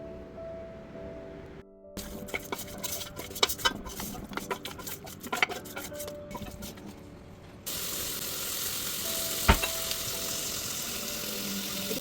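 Mutton pieces are mixed with salt and turmeric in a pot for military hotel style mutton chops, giving bursts of close scraping, clicking and sizzling stirring sounds, with abrupt cuts between stretches.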